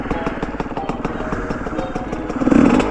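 A 2004 GasGas EC dirt bike rides along a trail, its single-cylinder engine chattering steadily up close and swelling louder near the end.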